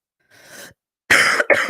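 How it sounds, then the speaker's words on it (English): A person coughs: a soft first cough, then two harsh, loud coughs in quick succession, close up. "Sorry for coughing."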